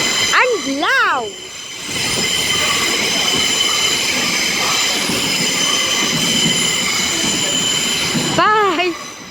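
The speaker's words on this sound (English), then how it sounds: "train to arrive at platform 4 will be the 1639 cross-country service to Plymouth" A long CrossCountry passenger train passes loudly through a station, with a steady rolling rumble and high wheel squeals at the start and end.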